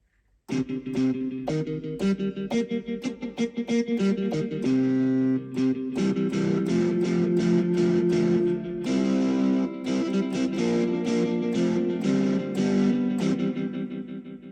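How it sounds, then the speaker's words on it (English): A Yamaha PSR-EW425 keyboard plays a busy melodic line soaked in distortion, with delay repeats smearing each note into a dense, continuous wash. "So we got DSP1 as delay and DSP2 as distortion."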